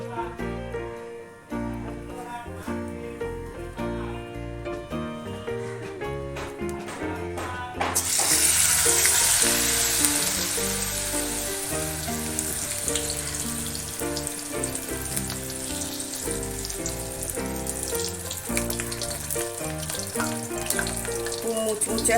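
Batter-dipped spinach-stuffed pakoras drop into hot oil, and a strong frying hiss rises partway through and continues steadily under prominent background music.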